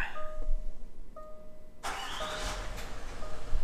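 A facelift Range Rover L322 with the 4.4 TDV8 diesel starts up close by: soft dashboard chimes first, then the engine cranks and fires loudly, settling into a steady, smooth idle.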